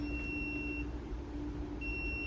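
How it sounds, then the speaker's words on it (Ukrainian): A Laser Deton initiation board beeps while sensing a target one metre away, a thin steady electronic tone that cuts out briefly and then resumes over a low background hum. "Тобто, бачите, він починає пищати затримкою, він бачить ціль на відстані метр."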